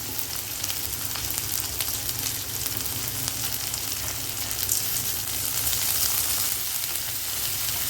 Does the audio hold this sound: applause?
no